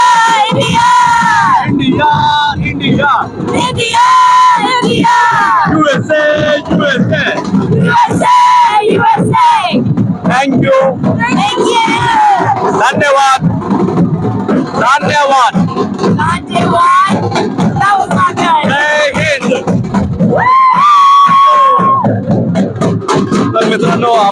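A large crowd at a Pola festival event organised by Jain Irrigation roars, yells and chants "India" in loud, continuous waves, with voices shouting over the sustained din.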